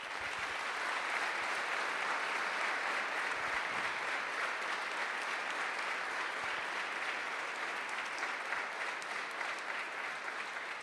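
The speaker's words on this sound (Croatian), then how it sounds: "Pa vas molim da je nagradite jednim aplauzom." An audience at an annual concert of Bunjevac songs applauds the children's choir leader with steady, dense clapping that holds evenly throughout, with no speech.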